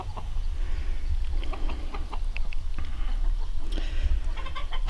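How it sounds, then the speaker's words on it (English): A hen loose in a garden clucks in short, scattered calls over steady outdoor background noise, with a few sharper bursts toward the end. "And there's a chicken in here."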